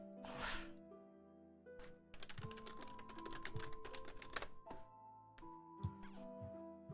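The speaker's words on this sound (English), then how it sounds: "It's never a good sign when the DM starts typing." Steady clatter of typing on a computer keyboard during a Dungeons & Dragons game session, fast irregular key taps running several seconds over a quiet room hum, with a brief breath or gasp near the start.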